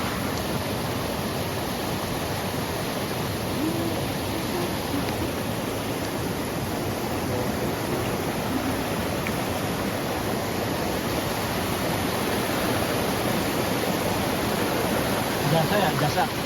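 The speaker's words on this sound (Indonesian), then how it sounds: "Aliran sungai lagi nih. Air deras berjuang tadi." Rushing mountain river with fast, turbulent water roaring in a dense, continuous wash, loud and steady throughout with no break.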